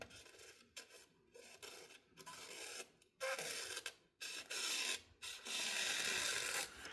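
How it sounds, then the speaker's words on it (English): An Artisan Cutlery Revel knife blade stropped at a high angle, giving repeated soft rasping strokes that start and stop in an uneven rhythm, quiet and very close, with no talking. "I'm gonna give it a high strop because it feels like it's got a booger."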